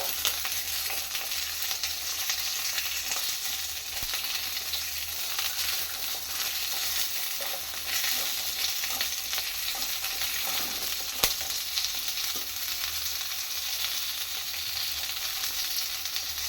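Something steadily frying and hissing in a pan while being stirred, a dense continuous sizzle, close up, with occasional faint scrapes and no talking over it.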